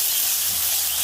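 Snail fritters frying in hot oil give a steady, close hiss and sizzle that holds evenly through the whole brief moment, with no voices over it.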